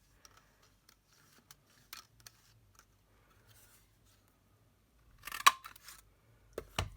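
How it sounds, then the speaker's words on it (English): Scissors cutting paper card for a mini gift box, a few faint early snips and then a louder close burst of crisp blade cuts, with quiet pauses between. "I actually think I might cut it one more time."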